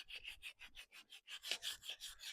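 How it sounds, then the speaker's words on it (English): Hand sanding of a thrift store French Provincial furniture piece, steady back-and-forth rasping strokes in a quick regular rhythm, close and fairly quiet, with no voices. "we'll see how it hand sands"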